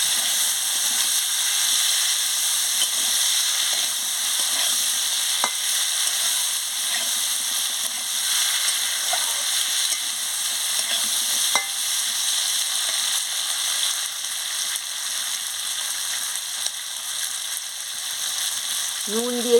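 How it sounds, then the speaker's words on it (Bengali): Tangra fish, potato and chopped tomato frying together in a pan: a loud, steady, close sizzling hiss that runs unbroken throughout, with only faint scattered clicks and no talking. "ট্যাংরা, আলু, টমাটো কুচি সব রকম দিয়ে ভালো করে ভেজে নিচ্ছি"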